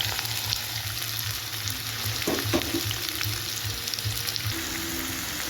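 Sliced onions drop into hot oil already spiced with cardamom for an Assamese-style chicken roast, giving a steady, close sizzle and crackle that runs throughout without pause.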